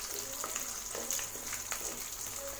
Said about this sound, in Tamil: அதை ஆட் பண்ணி வெங்காயத்தை நல்லா வதக்கி விட்டுருங்க